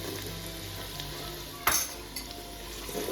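Steady sizzling of onion and garlic frying in a pan, with a brief clatter of stirring partway through and continuous crackle throughout.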